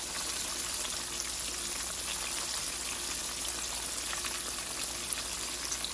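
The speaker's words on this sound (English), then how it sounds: "we're going to let the other side fry for another 2 to 3 minutes, and this whiting is going to be done" Whiting fish frying in hot grease gives a steady, soft, even sizzle with fine crackling pops throughout, close and unbroken, with no voices.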